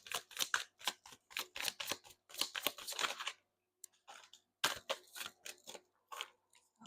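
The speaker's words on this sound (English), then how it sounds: "One more shuffle." Tarot cards being shuffled in repeated quick riffling bursts, close and crisp, with a brief pause midway before another run of shuffles; no talking.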